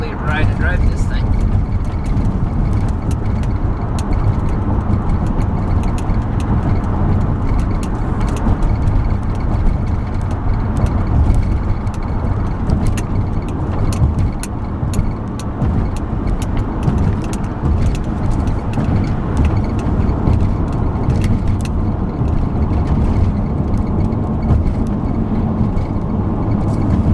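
Road and engine noise from a 2011 Dodge Grand Caravan Express minivan driving over a rough road, a steady broadband rumble throughout with small bumps and rattles, while someone talks over it.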